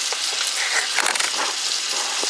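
A steak sizzles on a stovetop at medium heat, giving a steady crackling hiss with scattered pops throughout and no voices.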